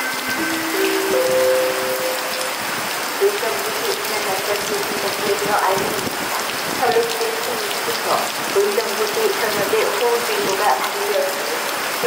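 Heavy rain under a heavy rain advisory in Japan patters densely and continuously on a surface, with scattered louder drops and a faint voice-like tone briefly under the downpour.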